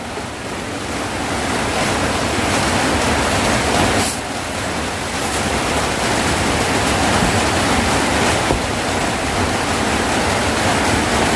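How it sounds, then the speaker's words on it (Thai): Heavy rain falls without a break, a loud dense hiss and patter that fills the whole stretch with no voices. "ฝนตกฝนตกฝนตกได้ทั้งวัน"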